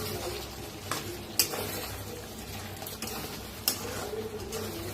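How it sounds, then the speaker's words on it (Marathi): Stuffed bell pepper curry with roasted gram flour gets stirred in a pan, a soft continuous sizzle broken by several sharp scrapes and clinks of the spoon against the metal, close by and without speech. "आता जरा मिक्स करून घेऊया."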